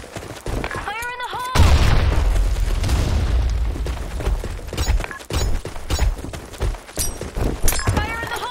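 A grenade explodes in the video game Blackshot with a loud, sustained blast that rumbles for several seconds, while game voice lines and other battle sounds continue around it.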